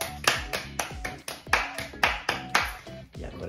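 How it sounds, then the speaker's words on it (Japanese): Rhythmic clapping with about a dozen sharp, distinct claps at a steady pace, close by and crisp, with faint background sound between them. "拍手。"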